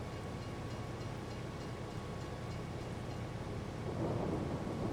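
Rain and thunder in Farming Simulator 22, a steady dense rush of rainfall with a low rumbling undertone that swells slightly near the end, no talking.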